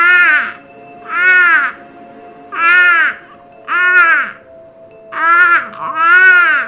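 Crows outside a bedroom window give six harsh, loud caws in an even, repeating rhythm, each about half a second long with short pauses between, close by and with no talk.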